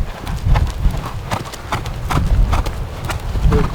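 Horse trotting in an arena, with a steady rhythm of loud, close hoofbeats on soft footing, continuing throughout.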